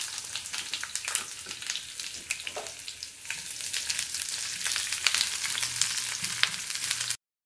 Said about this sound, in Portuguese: Aqui eu já coloquei um pouquinho de óleo aqui na nossa frigideira. Vamos estar dando uma dourada aqui na cebola,